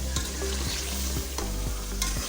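Pieces of gosht (meat) frying in hot oil in a pot while being stirred, a steady dense sizzle broken by periodic scraping strokes of the spoon every half second or so, close and continuous with no talk.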